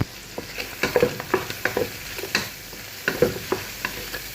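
A spoon stirs a pot of sopas soup seasoned with black pepper, scraping and clinking in a steady rhythm of repeated strokes, close and clear with a faint sizzle beneath.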